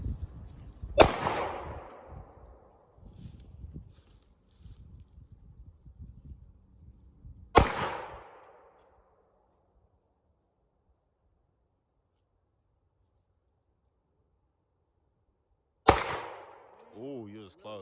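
Three sharp pistol shots from a small handgun with a custom decal grip, fired at a target and spaced several seconds apart, each with a short ringing decay; quiet talk comes between the first two.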